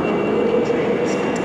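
Train class 35114 at a station platform gives off a steady, loud rumbling drone that fills the whole moment, with faint higher hiss above it.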